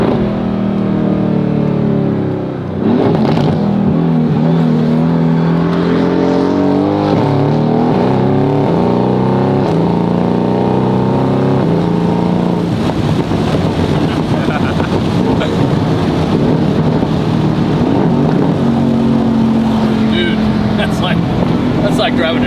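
A straight-piped Ferrari F50 hypercar is driven hard, its loud engine rising and falling through repeated revs and gear changes across the whole stretch, heard from close by with wind rushing past and a voice talking over it at times.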